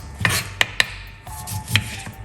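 A sharp knife cuts through garlic or lemon on a cutting board, giving four crisp knocks spaced unevenly over a couple of seconds, close and moderately loud, with no talking.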